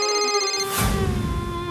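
A mobile phone rings with a bright, tonal ringtone melody, loud and continuous, with a brief swell partway through.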